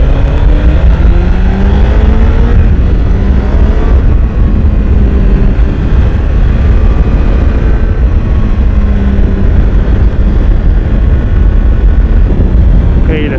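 A 2016 Honda CBR1000RR SP motorcycle accelerates hard, its engine roaring loudly and continuously with rising pitch sweeps, heavy wind buffeting the microphone throughout.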